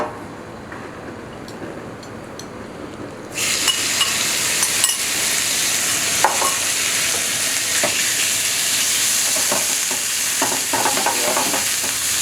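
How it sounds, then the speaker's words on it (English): Chicken for a stir fry sizzles in a frying pan, a quiet hiss that suddenly swells into loud, steady crackling frying, with occasional scrapes of stirring. "A little bit louder so it gets a nice sizzle sound."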